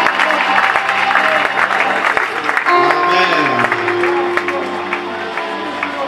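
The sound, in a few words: church congregation applauding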